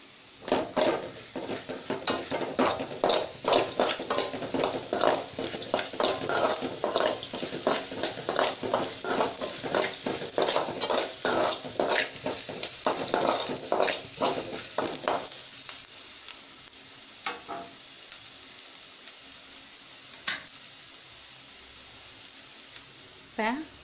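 Onions sauté in a pan for masala dosa potato filling, giving a continuous sizzle. For the first fifteen seconds it comes with rapid, rhythmic stirring scrapes, then it settles into a quieter, fainter fry with only occasional stirs.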